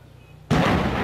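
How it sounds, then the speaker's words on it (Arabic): A regime tank shell explodes over a Daraa city neighbourhood, one sudden loud blast after a quiet moment, with a broad rumbling decay. "قصف عنيف من قبل دبابات النظام على حي المنشية"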